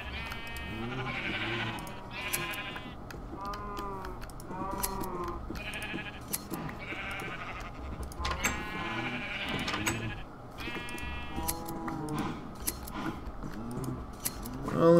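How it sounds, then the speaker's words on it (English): Sheep in Minecraft bleat over and over, the wavering calls overlapping in clusters with short gaps between them, fairly close and loud across the whole stretch. "looks like somebody's been messing with my sheep"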